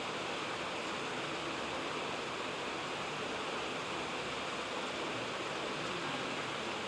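Steady broadband rush of water running from a household tap, constant and fairly close, with no pauses or voices throughout.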